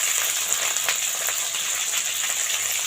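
Chopped onion with its green stalks frying in a pan for a mushroom pasta, a steady, close sizzle and hiss running without a break, with a few faint clicks of stirring.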